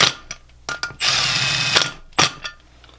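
A hand tool tightens bolts on an LS3 cylinder head, giving short close metallic ratcheting bursts and one longer, steady buzzing stretch, separated by brief pauses.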